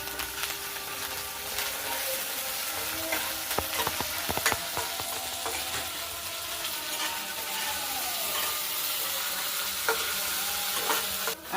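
Ginger garlic paste frying with onions in a pan, a continuous close sizzle with occasional sharp scrapes and clinks of a spoon stirring.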